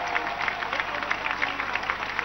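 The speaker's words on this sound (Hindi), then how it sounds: "जोरदार तालियां बजा दो इनके लिए।" Dense, steady applause from a large crowd at a political rally in Delhi, a continuous wash of many hands clapping with no break across the short stretch.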